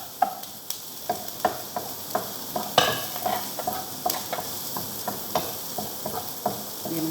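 Garlic and chili stirred and sizzling in a pan, a steady frying hiss punctuated by regular scraping stir strokes roughly every half second, close and moderately loud, without speech.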